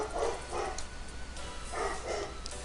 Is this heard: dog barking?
yes